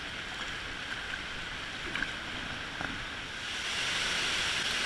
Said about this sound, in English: It's the sound of the first falls.